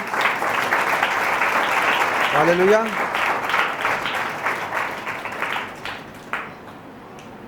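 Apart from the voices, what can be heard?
congregation clapping during a church service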